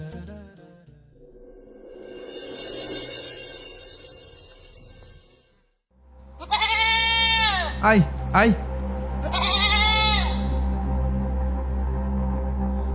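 A goat gives several loud, wavering bleats close by, in two bursts separated by a short pause, while people talk over a steady low hum.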